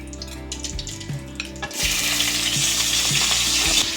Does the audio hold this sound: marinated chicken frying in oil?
yes